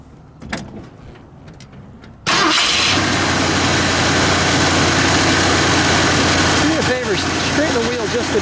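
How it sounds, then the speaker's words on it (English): A 1967 Ford Galaxie 500 convertible's 428 V8 engine cranks and fires up, then settles into a loud, steady idle close by, after a few quiet clicks and knocks. "let's fire it up since we've got it in this position."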